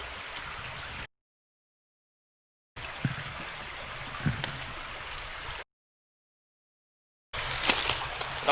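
A creek flowing near the site of a train wreck on the Wabash, a soft continuous trickle and rush of water heard in short stretches broken by gaps of silence.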